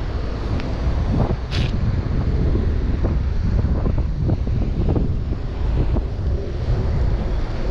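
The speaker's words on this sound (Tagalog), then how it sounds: "Malakas yung agos." Strong sea current and waves churning out at sea, a steady loud rush of surf with wind buffeting the microphone throughout, no talking.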